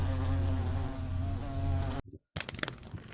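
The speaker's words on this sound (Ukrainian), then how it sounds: "гудуть бджоли." A steady, dense insect buzz drones loudly for about two seconds, then cuts off abruptly, followed by a brief silence and some scattered rustling noises.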